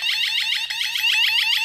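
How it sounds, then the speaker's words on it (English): A 1byone wireless motion-sensor driveway alarm on its high volume setting: a loud, steady stream of fast chirping electronic warbles heard close up and alone, repeating in even pulses throughout. "if you switch it up, it's a high chime"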